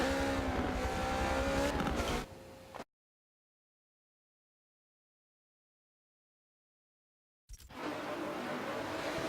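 Hypercars racing in Forza 7, including a McLaren P1 at Le Mans and a run at Mugello: loud, steady engine roar at the start, then a long silent gap, and the engine roar comes back at the end.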